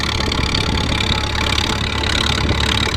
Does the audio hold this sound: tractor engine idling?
yes